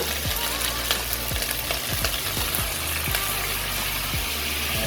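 Pork sizzles steadily in a hot pan while being sautéed for pork sinigang with sweet potato, a dense close frying hiss with occasional stirring knocks throughout and no voices.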